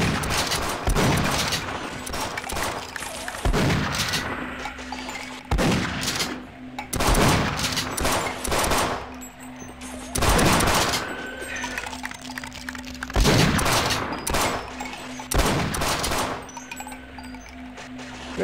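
Enemy gunfire from overhead attackers in the Half-Life Sven Co-op game on a hostile planet map, loud repeated bursts of shots in irregular clusters over a steady low hum.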